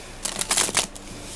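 Tarot cards being shuffled by hand, a brief burst of crisp riffling and flapping card sounds, close and alone without any talk.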